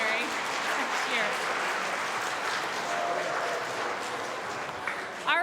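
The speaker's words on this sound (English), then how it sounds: "we're gonna applaud for Harshawn because he's gonna start in primary next year" An audience claps steadily at an end-of-school-year program, a sustained wash of applause with faint voices mixed in, fairly close.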